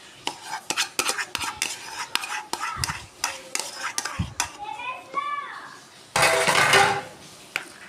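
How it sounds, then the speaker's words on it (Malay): Eggs poured into a pan over mashed tofu and stirred, with a run of close utensil clinks and scraping, soft frying sizzle and a burst of louder pouring or sizzling near the end. "Kita tuang telur ni."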